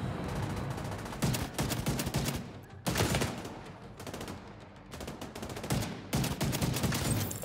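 Bursts of MDR assault rifle fire in The Division 2 on PC, with repeated loud rapid volleys cut by short pauses and heavy, dense firefights throughout.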